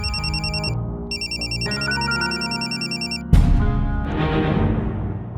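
A phone ringtone repeats its electronic melody up close, briefly pausing and resuming, then a louder tonal pattern takes over near the end.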